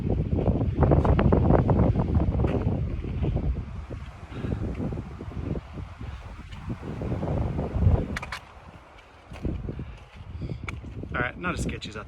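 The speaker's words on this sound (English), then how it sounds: "It is windy up here." Strong wind gusts buffet the microphone high on a mountain trail, a loud, rumbling roar that rises and falls throughout with a person talking underneath.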